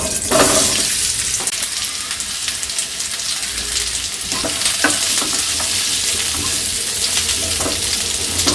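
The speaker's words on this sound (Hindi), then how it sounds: "तेल गर्म हो गया, अब इसमें हम आलू को डाल दे रहे हैं" Baby potatoes dropped into hot mustard oil and stirred, a loud bright crackling sizzle that flares at the start and keeps up steadily, with occasional spoon scrapes against the pan, close and uninterrupted by talk.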